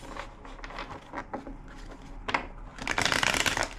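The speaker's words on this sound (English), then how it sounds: "Two more shuffles." A deck of cards shuffled up close: repeated papery riffles and slaps, building into a dense, louder flurry near the end, with no talking.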